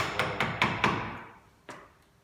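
A chisel is tapped to cut a groove around a wooden spatula, giving four quick, sharp, close knocks in a steady rhythm, then a pause and one last tap, each ringing briefly with no talking.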